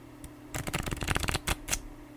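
A deck of playing cards is riffled in one quick burst of fluttering snaps, close and clear, followed by a couple of sharp taps as the cards are squared up.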